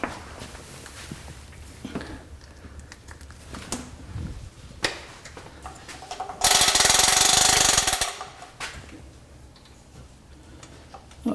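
A shop-made wood lathe spindle clicks intermittently against its spindle lock button as it turns, each tap sharp and separate, then a loud burst of grinding noise cuts in for about a second and a half before the tapping resumes.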